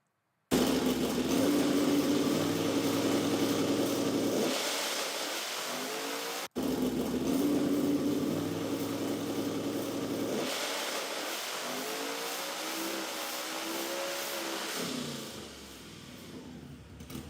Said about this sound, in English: as you guys can hear there, it's shifting on the dyno